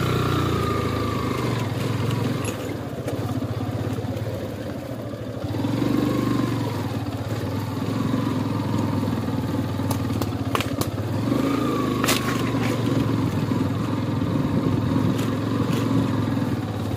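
Motorcycle engine running, a steady mid-pitched idle with rhythmic chugging and occasional revving swells, close by and continuous for the full length, with faint clatter and no clear talk.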